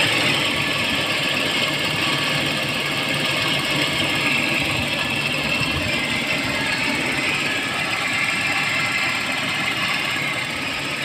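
A 2001 Toyota Kijang LSX with an EFI engine idles steadily nearby, a continuous even mechanical drone with a faint ticking texture and no change in pace across eleven seconds.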